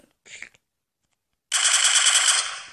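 Assault rifle fire in Minecraft PE with the Desnogun mod: a short burst of rapid, bright synthetic shots rattles for about a second after a brief earlier sound and silence.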